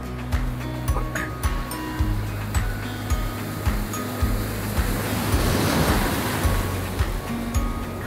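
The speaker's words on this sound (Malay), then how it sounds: "Kena pukul ombak tau." Ocean waves break on a shore during a beach camping trip, a rolling wash of surf swelling to a louder crash near the middle, with steady low rumble and no talking.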